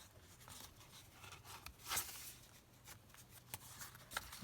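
A paper file folder is folded back over by hand, giving a dry papery rustle with a sharper crinkle partway through, close and fairly quiet.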